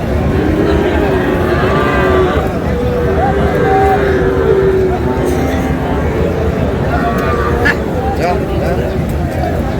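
Sahiwal cattle mooing at a busy livestock market, low drawn-out lowing calls rising from a dense, loud crowd murmur, with people talking throughout.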